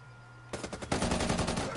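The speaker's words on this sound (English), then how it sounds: "I'm shooting right at you." Rapid automatic gunfire in a shooter video game, a dense burst of shots starting abruptly and continuing loud and close.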